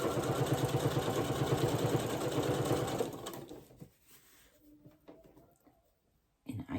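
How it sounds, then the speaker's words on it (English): A sewing machine stitching a star-shaped potholder runs loud and steady with a fast, even mechanical rattle for about three seconds, then stops, leaving faint handling noises and a brief clatter at the end. "Okay, so keep sewing."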